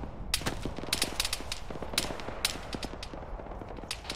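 Gunfire in the military shooter ArmA 3: a string of sharp, irregularly spaced shots, some close and loud, others more distant, cracking over a constant low rumble of battlefield ambience.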